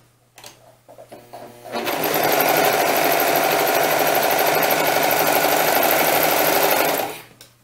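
A sewing machine stitching half circles of fabric for a doll dress runs in one loud, steady, fast-paced buzz for about five seconds, preceded by a few quiet clicks and ending abruptly.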